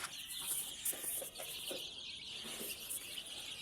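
A brood of hens and chicks at feeding time keeps up soft clucks and thin chirping peeps, close and low in level, with no voices.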